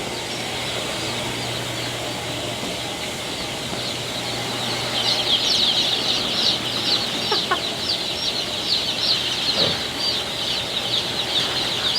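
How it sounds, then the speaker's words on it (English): Red meat-type chickens in a hatchery cluck and chirp steadily at close range, with a busier burst of calls in the second half and a continuous low hum underneath. "Now these are the red type meat birds that we carry."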